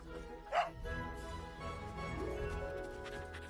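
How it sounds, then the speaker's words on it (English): A dog gives one short, sharp bark near the start, heard over soft background music in a film scene, followed by quieter tonal sounds. "Good dog! Good dog!"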